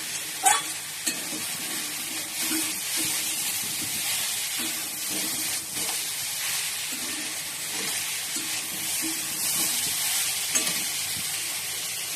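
Brinjal curry being stirred and sautéed in a pan: a steady, loud sizzle and hiss throughout, with repeated scraping strokes of a spoon in a loose rhythm.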